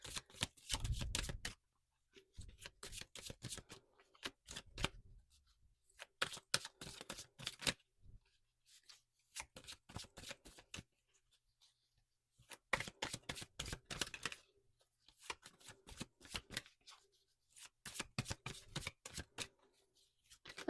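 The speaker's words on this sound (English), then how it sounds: "Just let me shuffle quickly, you guys." Tarot cards are shuffled in repeated riffling bursts separated by short pauses, close and fairly quiet, with no talking.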